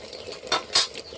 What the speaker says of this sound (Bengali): হাঁড়ির মধ্যে নেড়ে নেড়ে রান্না করা